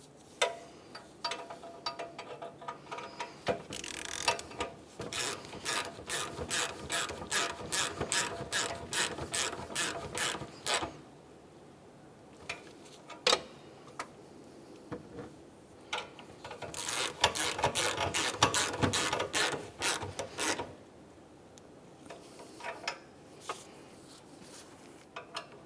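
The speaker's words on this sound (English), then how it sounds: "With both of those lower mounting bolts started in, we can snug them up." A hand ratchet snugs the lower mounting bolts of an EGR tube on a 2006-2011 Honda Civic: two long runs of rapid, evenly spaced metallic clicks, close and crisp, separated by quieter pauses and a few single clicks.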